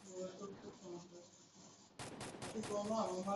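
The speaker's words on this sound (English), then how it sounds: "Who is firing?" Bursts of rapid gunfire in the video game Free Fire break out partway through, loud and clustered after a quieter stretch of background game noise.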